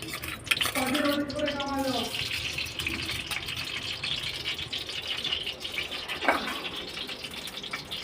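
Water being poured and strained through a strainer into a bowl in a home kitchen while cooking imartis in pure ghee, with splashing and trickling, a brief rattle near the start, a sharp clink later, and faint background noise.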